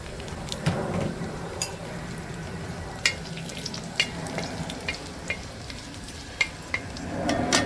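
Mustard seeds and dried red chillies sizzling and crackling in hot oil for dal fry, a steady close frying hiss dotted with sharp pops from bursting seeds.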